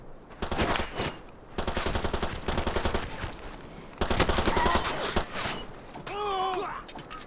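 Rapid bursts of automatic gunfire crackle loudly in several volleys with brief pauses, mixed with game sound effects and a rising electronic tone near the end, in the video game Far Cry 2.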